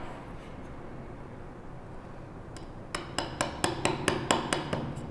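Chisel cutting a wooden tissue box lid: after a quiet stretch, a quick series of about ten sharp, evenly spaced taps rings out close by, growing slightly louder toward the end, with no talk.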